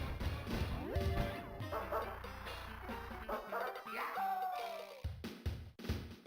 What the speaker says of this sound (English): I associate that sound with being like a dog bark because every time they play it in this game, it's usually in the context of a dog.